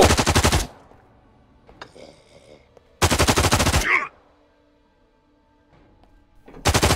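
AK rifle fire in the VR zombie game Contagion VR: three loud, rapid automatic bursts, each lasting under a second, separated by quiet gaps with faint clinks and movement.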